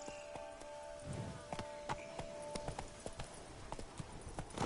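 Hooves of a galloping horse in The Witcher 3: Wild Hunt, a quick uneven run of sharp clip-clop beats over a soft game backdrop, fairly faint throughout.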